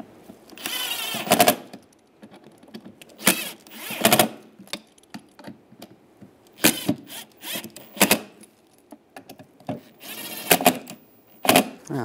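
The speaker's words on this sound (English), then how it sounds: "And I'll take the screws, get those started." Screws are driven into a 2007-2013 Chevy Silverado center console lid and hinge in short, sharp mechanical bursts of whirring and clicking, separated by quieter pauses, close by and with no talking.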